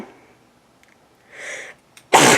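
A single sharp sneeze bursts out at the end after a soft intake of breath, close and loud in a quiet room.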